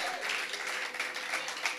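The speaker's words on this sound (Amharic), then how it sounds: "ሞገስ ለሰጣችሁ ጌታ አጨብጭቡለት" A church congregation applauds for the Lord with dense, fairly faint clapping that holds steady throughout.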